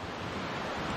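Water flows close by near Thandiani waterfall in Abbottabad, a dense, steady rushing wash that fills the short moment with no voices.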